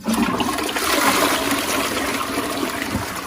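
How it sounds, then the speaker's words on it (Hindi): A household toilet (WC) with a newly fitted cistern flushes in one loud, steady rush of water lasting the whole moment, close up and alone with no talk. "अभी हम इसको फ्लश करेंगे और नीचे से लीक चेक करेंगे।"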